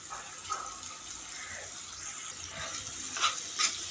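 Small chanda fish fry in a pan with a faint, steady hiss and scattered soft crackles, heard alone at low volume.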